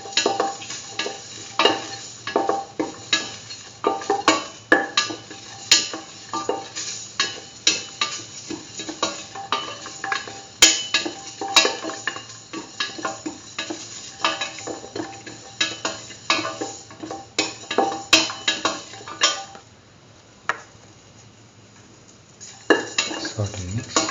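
Curried egg and mung bean stew being sautéed in a pan: frequent clinks and scrapes of a utensil against the pan over a soft sizzle, steady for most of the stretch, then briefly quieter near the end.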